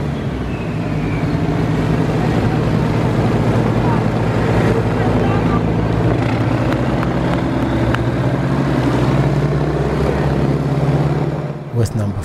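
A four-engined Avro Shackleton's piston engine running loud and close during an engine run, its deep droning throb and propeller roar steady before winding down at the end, with wind buffeting the microphone.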